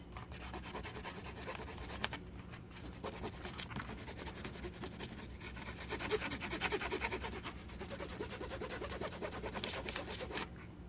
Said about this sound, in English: we will put a little sandpaper to the head of the screw